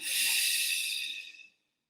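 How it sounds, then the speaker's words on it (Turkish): A single audible breath, a soft airy exhale lasting about a second and a half before fading to silence, paced as part of a guided breathing exercise in a creative dance session. "Nefes al. nefes ver."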